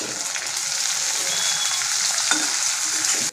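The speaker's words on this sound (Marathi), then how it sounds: "याच्यामध्ये आपल्याला टोमॅटो टाकायचा आहे। आता" Onion fried to light brown with tomato mixed in, for an okra (bhindi) dish, sizzling loudly and steadily in a pan with a constant close hiss and a faint stir partway through.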